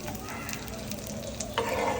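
Pav buns toasting in butter on a pan, giving a close, steady sizzle with light scraping from stirring and a slight rise in intensity near the end.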